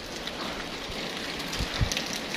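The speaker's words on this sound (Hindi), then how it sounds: "अभी बारिश की मकदार में काफ़ी कमी आ रही है" Steady rain falls as a continuous hiss, with a few soft thumps of drops nearby, no voices, outside a mosque in Saudi Arabia.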